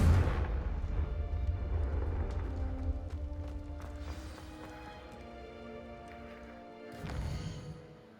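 A Confringo fire-blast spell explodes in the video game Hogwarts Legacy: a loud opening blast that rumbles and decays over several seconds, followed by a second, softer burst near the end.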